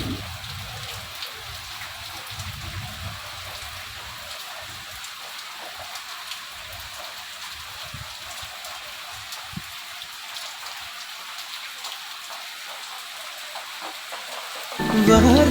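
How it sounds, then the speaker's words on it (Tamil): Heavy rain pours down steadily during a morning prayer time, a dense, constant hiss of drops drumming on surfaces close by, with no voices and a louder burst right at the end. "செம்ம மழை பெய்யுது வாங்க மழை சத்தத்தையும் மழையையும் பார்த்து ரசிக்கலாம்"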